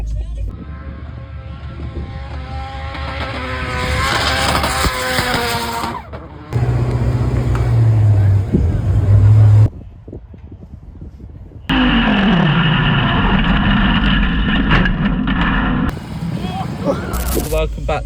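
Cars queue at Castle Combe circuit for a spring track action day, engines idling and revving loudly nearby while people talk over them.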